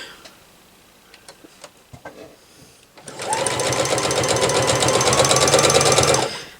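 After a few light clicks and taps, a sewing machine runs continuously for about three seconds, a close, loud, rapid stitching rattle on a quilt block that stops abruptly.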